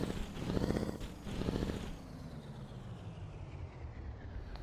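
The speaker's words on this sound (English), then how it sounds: "They're not very loud," A truck engine in Euro Truck Simulator 2 drones with a low, steady rumble. It pulses in two louder swells over the first couple of seconds, then settles into an even, moderately quiet hum.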